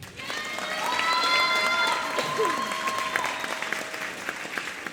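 An audience at a middle school popular music concert applauds with steady, full clapping and some cheering, while a voice speaks over it partway through.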